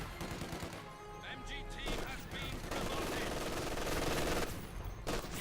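Heavy machine guns from a Company of Heroes 2 battle, DShK against MG, fire in continuous overlapping rattling bursts amid other battle noise, loud and dense throughout.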